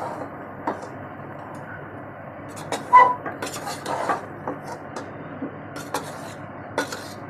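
A spoon stirs pulao rice in a metal pot, making soft scrapes and several sharp clinks against the side at an uneven pace, close and quiet with no talk.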